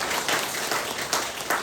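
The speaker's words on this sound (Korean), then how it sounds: "우리 천국에 있는 성인들, 성녀들에게 우리 박수 한번 쳐야 되겠죠?" A church congregation at a Saturday prayer Mass claps together, a short burst of moderately loud, uneven applause with a few sharper surges, no voices over it.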